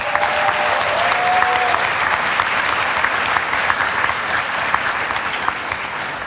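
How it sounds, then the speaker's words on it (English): Sustained applause from a conference audience at a closing ceremony, dense steady clapping from a large crowd filling the hall at constant volume throughout. "let's take a moment to give them a huge round of applause."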